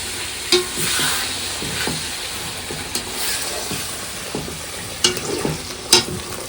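Spice masala with turmeric and salt frying for a fish curry at an outdoor picnic, a continuous close sizzle broken by repeated scraping knocks of a spoon stirring against the pot.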